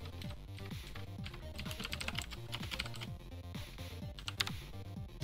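Rapid, steady key presses clatter on an international layout computer keyboard, with a low musical tone running beneath the clicks.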